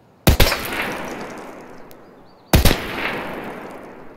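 Two separate loud gunshots from a rifle in the video game Escape from Tarkov, each a sharp close crack followed by a decaying echoing tail, about two seconds apart.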